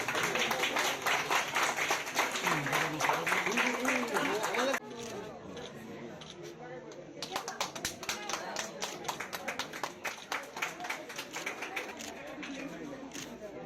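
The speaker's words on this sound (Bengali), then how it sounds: "সবাই হাততালি দাও।" Children clapping at a school event, a dense burst of applause that stops, then resumes as a rapid patter of many hands.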